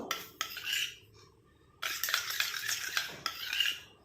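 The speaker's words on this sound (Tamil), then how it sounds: "இப்போ நல்லா மிக்ஸ் பண்ணியாச்சு" A homemade hair dye mixture is stirred in a bowl, giving scraping, clinking strokes in bursts with a silent pause in the middle, close and moderately quiet.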